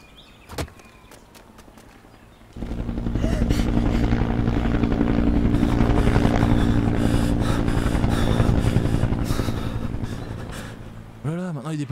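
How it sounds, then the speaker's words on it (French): A patrol helicopter flies around a lake in the video game Road 96. After a few quiet seconds, a loud, sustained rotor drone and engine roar rise and hold steady. "Des patrouilles en hélico autour du lac"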